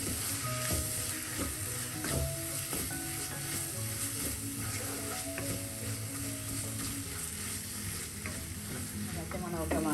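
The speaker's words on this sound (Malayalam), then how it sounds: "നമുക്ക് പച്ചമണം മാറുന്ന വരെ ഒന്ന് മൂപ്പിക്കാം" Masala for a Kerala kingfish curry sautés steadily in a pan, a continuous close sizzle with scattered scraping stirs and clinks throughout, no voices.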